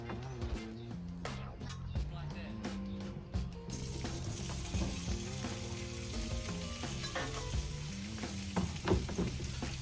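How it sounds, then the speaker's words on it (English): Eggs, sausage and potatoes fry on a Blackstone griddle with a steady sizzle throughout, under a persistent tonal hum, with occasional scraping clicks from a spatula. "So we're gonna throw some eggs down, sausage, potatoes"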